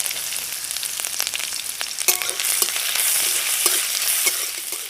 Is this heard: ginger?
yes